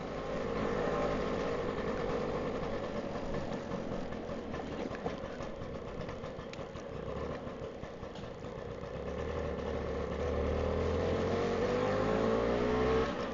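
A 1962 Lambretta Li 150 Series 3 scooter rides along a high street at light throttle, its small two-stroke engine giving a steady, close buzzing drone with mild pitch swells and no talk.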